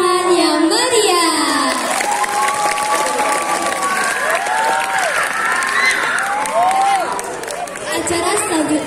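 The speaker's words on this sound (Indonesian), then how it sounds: "beri tepuk tangan yang meriah" Students and audience at a school Arabic poetry reading contest applaud with cheering and children shouting, a loud, continuous crowd din of clapping and excited voices throughout.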